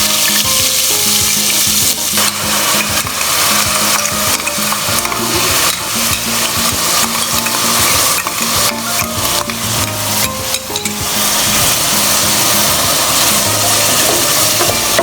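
Ground onions sizzle steadily in a hot pan while being stirred, with loud, continuous frying crackle and repeated scraping strokes, for a Kangra-style chane ka madra dish.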